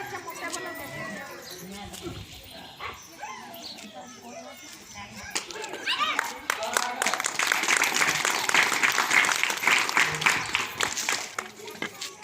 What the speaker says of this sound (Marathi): सर्वांनी टाळ्या वाजवून प्रतिसाद द्यावा.